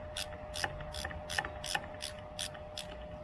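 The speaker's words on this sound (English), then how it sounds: "Tighten that one a little bit" Screwdriver or ratchet tightening the set screws on a full-size brake pedal for a Can-Am Ryker motorcycle, giving about eight evenly spaced sharp ratcheting clicks, close and moderately loud, with no talking.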